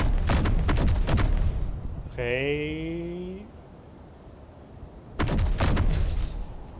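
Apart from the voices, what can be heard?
auto cannons firing in video game Space Engineers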